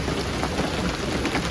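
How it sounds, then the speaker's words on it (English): Steady rain falls outdoors on a farm with horses nearby, a dense, even hiss that holds close and constant throughout without a pause. "I'm standing in the rain."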